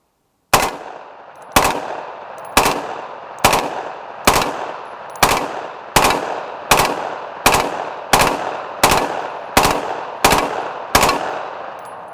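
Rifle fire aimed at an AR550 Level III+ steel body armor target on an outdoor range: twelve loud, sharp shots at a steady pace about one second apart, each with a ringing decay and no talking between them.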